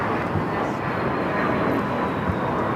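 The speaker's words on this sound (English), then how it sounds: "That is a Cessna Citation, latitude taking off, NetJets 529" A NetJets Cessna Citation Latitude business jet takes off at LAX, a steady broadband engine roar that holds at an even level for the whole stretch, with faint talk in the background.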